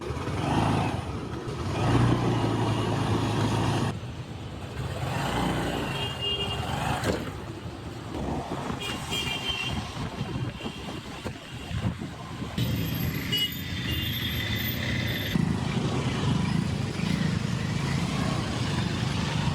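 Road traffic streams past continuously, with trucks and cars rumbling and engines revving. A horn toots now and then through the steady, close roar.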